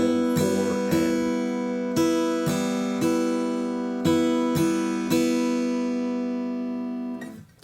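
Fingerstyle acoustic guitar rhythm pattern with a partial strum, several ringing plucked and strummed attacks in an even pulse, close and clear, the last chord left to decay before a brief thump.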